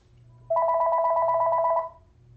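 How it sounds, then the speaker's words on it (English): A telephone rings in one sustained electronic trill of about 1.3 seconds, loud and close, with a low hum underneath and no talking. "Sorry about that phone call there"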